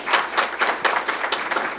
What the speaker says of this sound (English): please give both presidents a round of applause